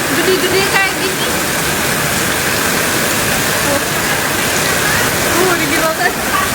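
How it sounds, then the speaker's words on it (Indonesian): Large hailstones pound down steadily during a hailstorm with strong winds in Sukabumi, Indonesia, a loud continuous roar of impacts close by with no break. "hujan esnya gede-gede kayak gini"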